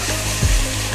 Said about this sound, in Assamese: আদা নহৰুখিনি ভালকৈ ভাজি ল'ম